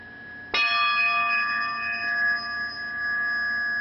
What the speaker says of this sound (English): If I strike the rod on the floor